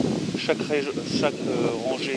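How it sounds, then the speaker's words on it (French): Wind gusts across the microphone outdoors beside a wash-house during a magnet-fishing outing, a continuous low rumble under a man's close speech. "excusez-moi pour le vent"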